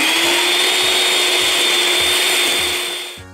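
An electric mixer whirs steadily through chocolate ice cream ingredients made with cocoa powder, a loud, constant motorized hum that winds down at the very end.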